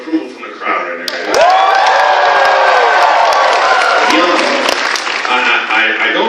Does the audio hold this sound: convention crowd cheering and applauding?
yes